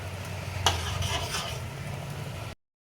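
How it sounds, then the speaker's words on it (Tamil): Moong dal stirred into a cooking dish in a pan, giving a steady soft stirring and sizzling hiss with one sharp tap early on, then cutting off abruptly. "இதில் பயத்தம்பருப்பை சேர்த்து கலந்து விட்டுக்க போகிறோம்"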